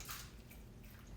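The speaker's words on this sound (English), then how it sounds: "And then I'll top it off with water." Water pours into a jar of pickled vegetables, a faint, short trickling splash that stays quiet and steady with no talking.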